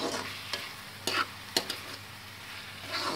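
Chili powder is stirred into tomato masala in a pan, with a soft background sizzle and several distinct spatula scrapes and taps against the metal, spaced irregularly.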